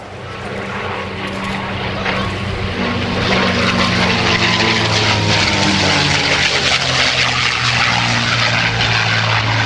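A P-51 Mustang warbird makes a low photo pass at the 2009 NAS Oceana airshow. Its propeller engine roar builds and stays loud and close, and a faint voice can be heard underneath.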